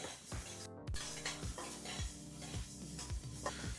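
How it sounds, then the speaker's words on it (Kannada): Fenugreek seeds roasting in a hot, dry pan for homemade sambar powder, with a steady scraping stir and several soft clinks of a spoon against the metal pan, close and alone. "ಈಗ 50 ಗ್ರಾಮಷ್ಟು ಮೆಂತ್ಯನ ಬಿಸಿಯಾದಂಥ ಬಾಣಲಿಗೆ ಹಾಕಿ ಹುರಿತಾ ಮೆಂತ್ಯ ಕಾಳಿನ ಬಣ್ಣ ಬದಲಾಗುತ್ತೆ"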